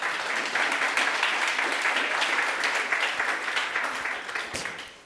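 A church audience applauds steadily, many hands clapping at once in a dense, sustained wash that fades slightly at the end.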